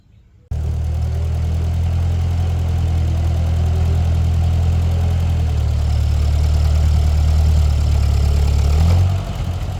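A vehicle engine idles steadily and loudly up close, a deep, even rumble starting abruptly and holding for several seconds, with a slight rise near the end before it drops back.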